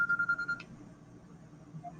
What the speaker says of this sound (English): That's the lunch alarm.